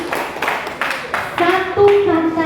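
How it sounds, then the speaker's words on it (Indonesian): Scattered audience clapping for morning talk-show panelists, a few distinct close claps at first giving way to a voice speaking over the thinning applause. "Tepuk tangan dulu untuk semuanya."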